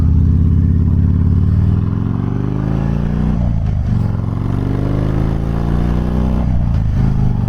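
Custom Harley-Davidson Fat Bob motorcycle engine rumbling loud and close while riding through traffic, a steady low throb that dips briefly between gear changes and resumes, with no talk over it.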